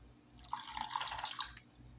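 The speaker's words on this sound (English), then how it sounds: "and add the water." Water pours into a pot on the stove for a strawberry pie filling, a soft steady splashing stream lasting about a second, faint and alone.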